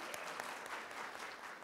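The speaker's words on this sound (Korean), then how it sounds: "박수만 치고 마무리하도록 하겠습니다" An audience at a forum event claps in a short, dense burst of applause, soft and fairly even throughout.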